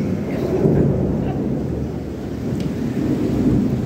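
Heavy rain and thunder pour down outside during a Ganpati immersion outing, a steady loud roar of rainfall and rumble with no pauses, close and enveloping.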